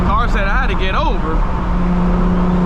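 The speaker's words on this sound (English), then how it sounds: "You hear that big single turbo behind you?" A car with a big single turbo follows closely behind, its engine a loud, continuous roar heard from inside another car at night. People talk over the constant engine and road noise.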